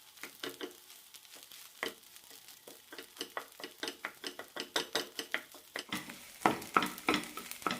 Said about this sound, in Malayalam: ഒന്നുകൂടി നന്നായി ഇളക്കാം